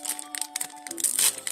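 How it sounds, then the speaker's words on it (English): A trading card pack is torn open with teeth, producing a burst of sharp crinkling and tearing foil wrapper sounds in quick irregular bursts, close and fairly loud, with no voice. "I'm gonna open these up with my teeth because I'm not going to get scissors right now"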